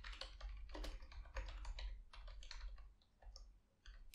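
Quick typing on a computer keyboard, a close run of crisp key clicks in irregular bursts with a short pause near the end.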